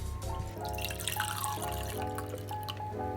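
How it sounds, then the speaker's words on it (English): Freshly made green juice pours into a glass in a steady liquid trickle with faint dripping, close and continuous. "I'm just going to pour this into my glass left-handedly"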